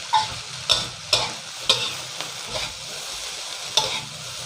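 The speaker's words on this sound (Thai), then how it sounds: "นี่ครับพอไข่มันเซ็ตตัวเราก็เริ่มผัดได้" Stir-fried rice coated in egg with Chinese sausage, cooked in a pan over medium heat, gives a steady soft sizzle broken by sharp spatula scrapes and taps against the pan every second or so, close and fairly quiet, with no talk.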